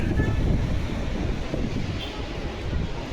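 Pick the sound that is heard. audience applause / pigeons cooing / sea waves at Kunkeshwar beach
sea waves at Kunkeshwar beach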